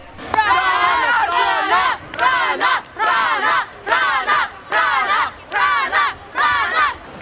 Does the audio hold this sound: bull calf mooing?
no